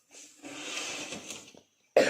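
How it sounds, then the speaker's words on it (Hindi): A single raspy cough stretches out for over a second, then a short sharp burst follows after a pause; nearby and fairly soft. "थोड़ी खांसी हो रही है मुझे"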